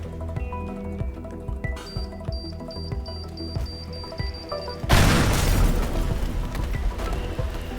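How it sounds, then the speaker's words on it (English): Big booms in the voxel destruction game Teardown: a loud explosion bursts in around the five-second mark after quieter clinks and tones, followed by a sustained roaring rumble of debris. "Why use shotgun when we can make big booms?"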